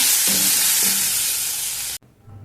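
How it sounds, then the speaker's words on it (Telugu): Tomato frying in a pan while ragi upma is being made: a loud, steady, close sizzle for about two seconds, then it cuts off abruptly to near quiet. "కొంచెం టమోటాని కూడా మగ్గనిద్దాం"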